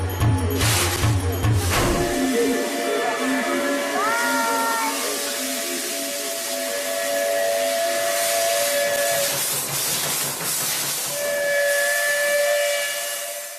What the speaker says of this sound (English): It's a beautiful sight to see a steam locomotive fully steamed up,